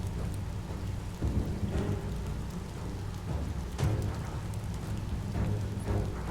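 Steady heavy rain pours in the game Biomutant while thunder rumbles low underneath, with a sharper crack partway through, continuous and fairly loud with no voices.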